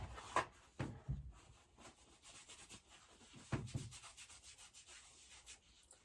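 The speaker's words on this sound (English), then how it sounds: "Just wiping the remaining blush off my hand." A hand being wiped clean of leftover makeup blush, a few soft close rubbing swipes with brief scuffs and quiet gaps, heard alone.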